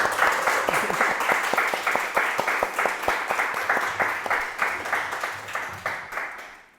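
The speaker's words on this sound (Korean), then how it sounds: "훌륭한 연주 들려주신 이선원 씨께 다시 한번 큰 박수 부탁드릴게요" Applause from an audience after a violin performance of a Franck piece, many hands clapping densely and steadily at moderate loudness, then fading out toward the end.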